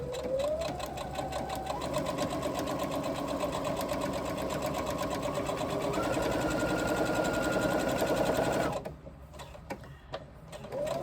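A sewing machine stitches a curved 3/8 inch seam in one long continuous whir that speeds up slightly before stopping, then a few quiet clicks and a brief restart, heard up close.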